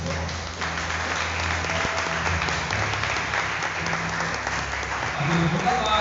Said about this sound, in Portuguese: Aplausos ao Senhor pela resposta.